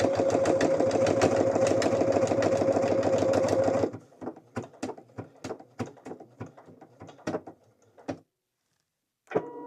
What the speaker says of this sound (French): je vais appuyer pour que ça le couse.